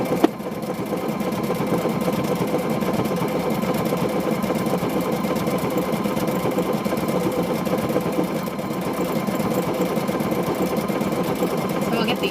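A sewing machine stitches a car seat cover in one long, steady mechanical whir that hardly varies in pitch or loudness, with no pause from start to finish.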